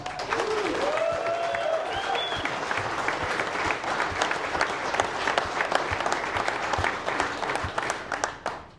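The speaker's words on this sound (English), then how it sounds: "let's give them a round of applause so they can hear us." Sustained crowd applause in Sioux Falls for Silencer Central team members, dense steady clapping with a few whoops near the start, continuing evenly before tapering at the end.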